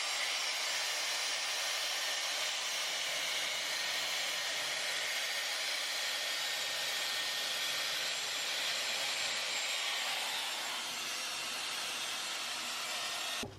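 An Airstraight hair straightener-dryer runs on a section of hair, its steady loud blowing whine continuous and close for the whole stretch before cutting off at the end, no talking.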